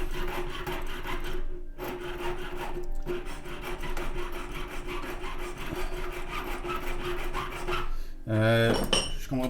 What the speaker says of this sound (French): Je vais découper sur la soudure